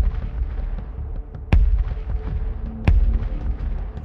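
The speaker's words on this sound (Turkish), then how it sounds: "kaleden ve gemiden kışlık saraya top atışları" Cannon fire from a fortress and a ship bombard the Winter Palace during the October Revolution, two sharp heavy booms ringing out over a steady rumbling background of distant battle noise.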